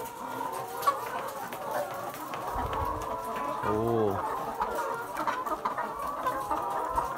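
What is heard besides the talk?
egg-laying hens clucking on a school farm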